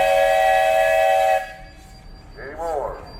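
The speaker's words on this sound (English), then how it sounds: "Mr. Fry, you got a whistle." A steam engine whistle at a threshers festival gives one loud, shrill, sustained blast of about a second and a half, then cuts off to quieter outdoor background with a brief chirping sound.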